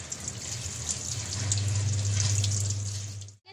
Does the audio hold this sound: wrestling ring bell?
no